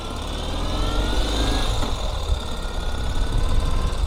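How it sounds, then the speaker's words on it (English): A 2025 Ural Gear Up sidecar motorcycle fitted with Nitron shocks rides over rough terrain, its engine a steady close rumbling drone with a low vibrating roar that holds throughout. "we're going over some rough terrain, and it's very, very comfortable because the Ural sidecar has independent suspension"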